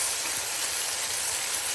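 Beef keema fries on a gas stove in a steady, hissing sizzle that holds evenly throughout, close and moderately loud with no breaks.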